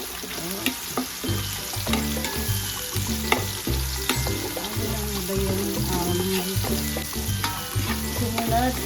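Onions sautéing in a pan for pancit guisado, a loud continuous sizzle with rhythmic stirring and scraping knocks repeating throughout.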